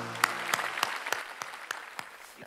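Scattered clapping from a church congregation during a Sunday worship service, a handful of distinct claps spaced unevenly and fading, with a faint voice in the background.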